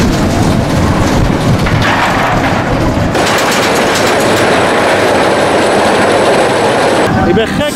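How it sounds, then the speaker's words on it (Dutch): The Toutatis roller coaster at Parc Astérix runs right alongside a train, a loud, continuous roar of rumbling and rattling clatter with metallic squeals, steady throughout and growing harsher near the end. "Maar we gaan wel heel mooi langs de trein voorbij."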